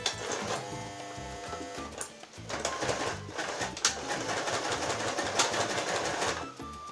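A domestic sewing machine stitches a seam on a homemade fabric face mask, its rapid steady whir running continuously close up with brief pauses, and no talk over it.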